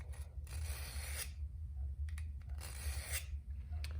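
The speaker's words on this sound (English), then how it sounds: "Next, we're going to move to the ceramic side of the V-tapered sharpening notch. Same thing, take the knife, place, and pull." A knife blade is pulled through the ceramic side of a V-notch sharpener in two rasping strokes, each a gritty scrape heard close over a low background hum, with a few small clicks between them.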